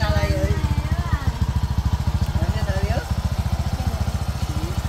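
A new motorcycle engine idles nearby with a steady, fast-pulsing chug, loud and continuous throughout, while a voice talks over it.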